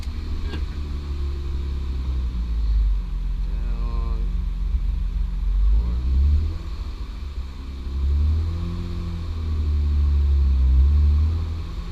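A 2006 Honda Accord with a J30 V6 engine and nitrous running on a dyno, a steady low rumble that swells as the engine is briefly rolled up, with faint voices in the background.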